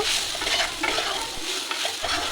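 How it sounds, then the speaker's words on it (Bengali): Soybeans are stirred with spices in a hot pan for a soybean and pumpkin mustard dish, giving a continuous close sizzle broken by soft scraping strokes of the spoon. "সয়াবিনগুলো দেওয়ার পরে ভালোভাবে মশলার সাথে আমি মিক্স করে নেব"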